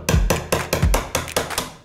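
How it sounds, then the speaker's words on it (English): A hammer lightly taps a chisel on live edge wood for a DIY industrial coffee table, about eight sharp close knocks in quick, even rhythm with no talk. "you're just gonna lightly tap your chisel"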